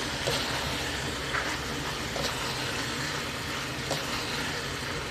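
Chicken and Chinese cabbage with oyster sauce stir-fry in a hot pan, giving a steady, dense sizzle with a few light scrapes and clicks of a spatula throughout.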